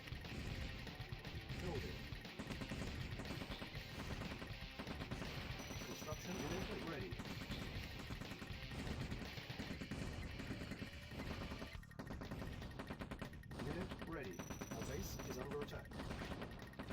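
Turret gunfire from the Command & Conquer Combined Arms mod, steady bursts of rapid shots with a few heavier impacts, fairly quiet and continuous under battle noise.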